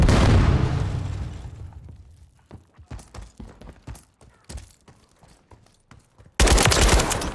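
A stun grenade goes off amid gunfire in the Call of Duty video game: a loud burst opens, then a rapid run of sharp shots and cracks, ending in another heavy blast.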